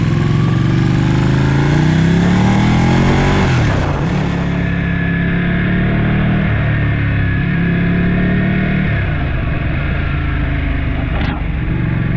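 A motorcycle engine drones loudly and continuously while riding, its pitch rising and falling as the rider shifts and accelerates, close to the mic.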